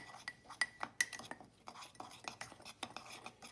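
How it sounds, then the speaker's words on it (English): A small spoon stirs dry mug cake ingredients in a mug, giving a quick series of faint, close scraping taps and light clinks in an uneven rhythm. "I'm gonna take a little spoon here and just stir that up"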